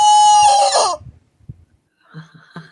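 A loud, close chicken call opens with a harmonic crowing squawk lasting about a second, followed by softer clucks and a few short notes after a brief pause.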